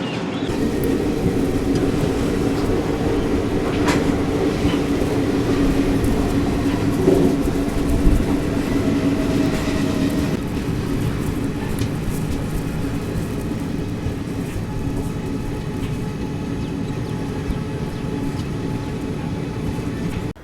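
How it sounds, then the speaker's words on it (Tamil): The Balaji Express from Nagercoil to Mumbai rumbles past nearby, a loud continuous mechanical roar with steady clatter that gradually eases toward the end. "நாகர்கோவிலேருந்து மும்பை போகிற பாலாஜி எக்ஸ்பிரஸ் இங்கே வரப்போகுதுங்க"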